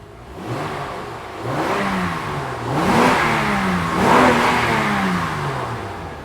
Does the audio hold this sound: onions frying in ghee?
no